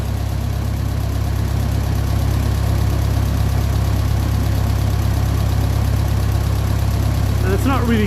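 A 1957 Ferguson 35 TVO tractor engine drones steadily and low throughout, holding at an even 1000 rpm, with a faint brief squeak near the end.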